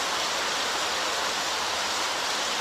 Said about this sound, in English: I think that's why this rain is this serious.